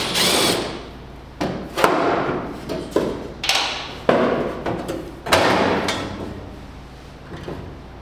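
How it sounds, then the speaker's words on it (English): An angle grinder with a cutoff wheel cuts metal on a 1967 Camaro during a firewall mount install, loud repeated bursts of abrasive whine and rasping separated by brief pauses. "We got our grinder plugged back in with the cutoff wheel, and what we're going to do is cut visibly to the inside of that line"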